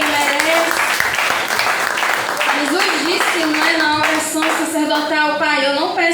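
Congregation applauding at a Brazilian healing worship service, dense continuous clapping that holds steady throughout, with a preacher's voice speaking loudly over it.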